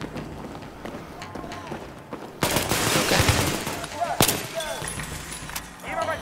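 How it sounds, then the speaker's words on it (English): Gunfire in the video game Battlefield 3: a loud burst of automatic fire midway, with sharp shots and running footsteps amid a busy game mix, under a voice. "All the time when I try to shoot, it kind of reloads and really freaks me out."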